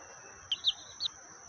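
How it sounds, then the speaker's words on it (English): A baby chick gives three quick, high, thin peeps, close and clear over a faint steady hum, with no talking. "The chicken is the baby hen."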